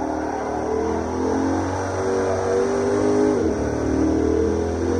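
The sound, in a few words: Lexus ISF engine revving in video game Assetto Corsa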